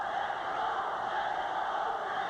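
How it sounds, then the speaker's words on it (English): Boxing arena crowd at a junior featherweight bout, a steady roaring cheer from a large mostly Mexican-American audience, continuous and fairly distant with no distinct voices. "Crowd predominantly Mexican-American cheering for Pintor"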